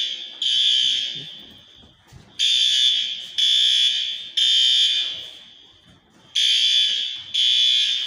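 A kitchen fire alarm blares in loud repeating high-pitched bursts during fire suppression system testing, about one per second with short gaps, with faint background noise between blasts.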